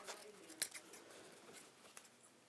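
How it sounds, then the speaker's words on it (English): Old scissors snip through wire in a sewing studio with a few sharp, close cuts and a faint metallic click, then quiet handling noise. "They're old scissors now because I'm cutting through wire."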